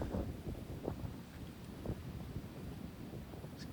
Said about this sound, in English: Kind of getting beat down by the wind